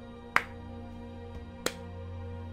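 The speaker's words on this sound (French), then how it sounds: "Vous entendez un clappement de main." Two sharp, isolated hand claps about a second apart, fairly faint against a low steady hum.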